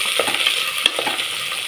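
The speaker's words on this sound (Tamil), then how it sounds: "வெங்காயம் போட்டு நல்லா வதக்கிக்கலாம்." Onions sauté in oil that was used for frying dried fish, giving a continuous mid-level sizzle. Light scraping and stirring taps recur throughout.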